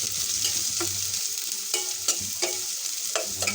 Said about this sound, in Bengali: ভাজতে থাকি আমার পেঁয়াজটা ভাজা হয়ে গেছে